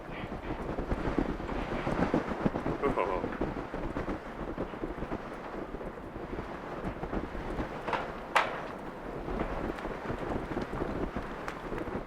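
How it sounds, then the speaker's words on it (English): Strong wind roars and buffets the microphone in a steady rushing din at a harbour between Kirkwall and Scapa Flow, with one sharper gust hitting hard near the end. "Here comes the wind."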